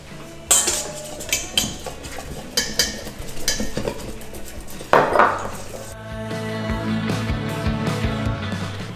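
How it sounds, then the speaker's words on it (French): Whisk clattering rapidly against a bowl as egg yolks are beaten with cornstarch, a burst of clinking strokes, a louder knock near the middle, then steadier low kitchen hum with faint background music. "je vais venir fouetter mes jaunes d'œufs avec ma maïzena"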